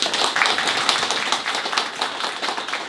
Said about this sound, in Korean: 우리 다 같이 박수로 환영하겠습니다.